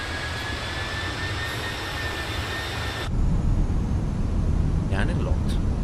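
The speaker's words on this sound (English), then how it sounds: "I'm glad I'm doing this landing gears jumping down" LATAM A321 in Microsoft Flight Simulator, a steady loud jet roar in the cabin that thickens into a deeper rumble partway through as the landing gear extends.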